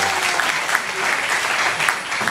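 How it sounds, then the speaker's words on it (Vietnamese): Audience applause at a live cover performance by a band, a dense continuous wash of many hands clapping at steady loudness throughout, with no talk over it. "Tiếng vỗ tay."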